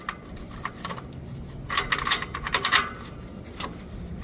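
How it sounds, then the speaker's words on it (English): An oxygen sensor socket is fitted onto the downstream oxygen sensor of a 2013-2018 Nissan Altima 2.5, producing scattered close metallic clinks and scrapes, busiest in the middle. "then we're going to come in with our oxygen sensor socket"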